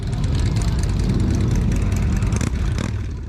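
Motorcycles at the Friday the 13th rally in Port Dover, Ontario, form a steady loud engine rumble from many bikes idling and revving together, with a dense low drone throughout.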